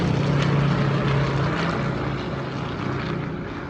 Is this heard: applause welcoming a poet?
no